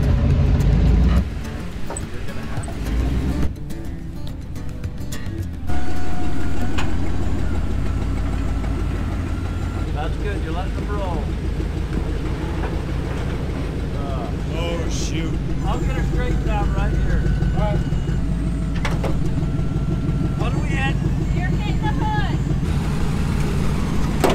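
An off-road vehicle drives a trail toward the Long Valley staging area, its engine a steady low rumble with some rattling throughout, while people talk over it.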